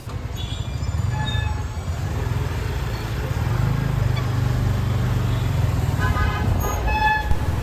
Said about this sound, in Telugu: ఇక్కడ ట్రాఫిక్ కొంచెం ఎక్కువగానే ఉంది